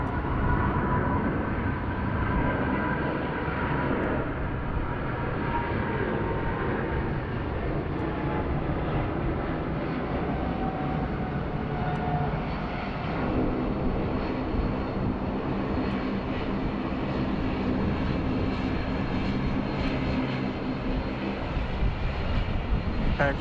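An airliner lands on runway 16 right at Sydney Airport in high wind, its steady jet engine roar filling the whole stretch as a continuous broad rumble with no voices.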